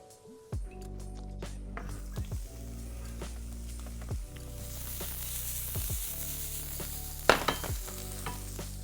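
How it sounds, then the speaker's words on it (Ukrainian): Chicken liver frying in hot oil with garlic, with continuous crackling sizzle and occasional utensil clinks and stirring thuds, fairly close. "Тепер все гарненько смажимо на олії."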